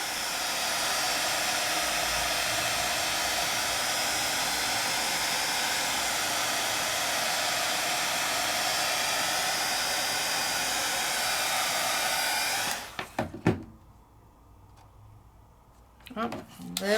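A heat tool blows steadily on embossed paper with polished silver and gold accents, a loud continuous whooshing hiss that runs alone for about twelve seconds before cutting off, followed by brief faint handling sounds.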